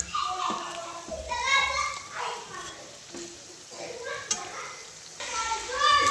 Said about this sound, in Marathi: तळायला टाकले तर वडा